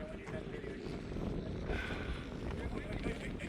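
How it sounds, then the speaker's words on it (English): Wind gusting across the top of Black Bear Pass, a high mountain pass, buffets the microphone as a steady, rushing roar that swells slightly partway through. "Windy up here as always."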